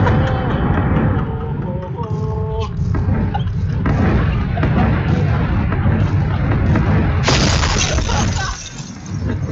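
A grenade goes off in a shooting video game, with heavy booming blasts and shattering crashes amid dense game noise, while players shout excitedly over it.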